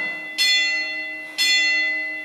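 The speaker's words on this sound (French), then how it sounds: "Ding dong." Two evenly spaced bell strikes used as a timer signal in a HIIT workout, each a bright ringing chime that rings on and fades before the next, alone with no talking.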